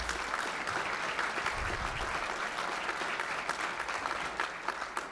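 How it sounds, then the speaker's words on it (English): Sustained applause from an audience honoring graduates at a community program's graduation ceremony, a steady dense wash of clapping that carries on unbroken from start to finish. "give yourselves a round of applause"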